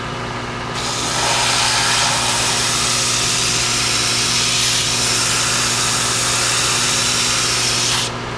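Sanding on a booster for an SBR 4-inch Fusion rocket build: a loud, close, continuous abrasive hiss over a steady low hum, swelling in after a second and cutting off near the end.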